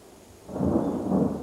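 Thunder rolls in over rain in a flooded forest as the rainy season arrives in mid-April, a deep, swelling rumble rising after a quiet half-second and holding steady, with a soft hiss of rainfall underneath.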